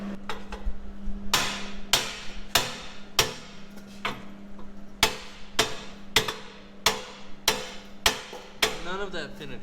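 Repeated sharp metallic hammer blows on a Coleman KT196 go-kart's jackshaft parts, about a dozen strikes at a steady, slightly uneven pace, ringing over a low constant hum.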